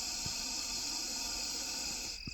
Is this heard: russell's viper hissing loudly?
yes